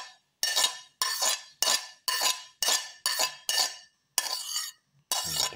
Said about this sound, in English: Put in the finely cut onion pieces and the ginger and the garlic.